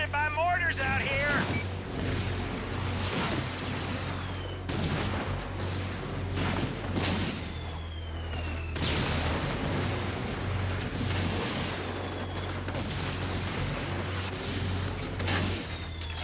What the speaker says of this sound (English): We're getting pounded by mortars out here.